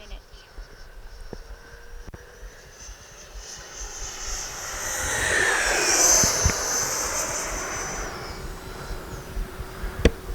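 An E-flite Viper 90mm ducted-fan RC jet flies slowly past with gear and landing flaps down, its whine rising as it approaches, peaking overhead and then fading, with a voice talking over it.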